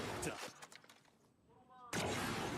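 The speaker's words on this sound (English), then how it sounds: "Shotguns." Shotgun fire in a professional Valorant esports match: a few loud, sharp blasts at the start, then a brief lull and another burst near the end, with caster commentary running underneath.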